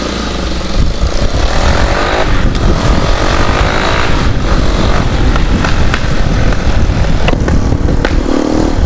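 Loud, steady engine drone from a CPI GRX-250 motorcycle fitted with an Akrapovic trioval muffler, close up and continuous for the whole stretch with dense broadband roar and no voices.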